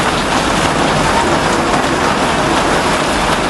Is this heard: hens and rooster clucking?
no